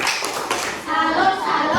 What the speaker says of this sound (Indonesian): mari kita beri tepuk salut untuk kelompok Yohanes